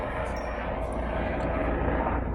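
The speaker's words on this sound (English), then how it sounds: "just as the police helicopter comes overhead" A police helicopter drones overhead, a steady low rumble with a whirring hum that holds constant throughout.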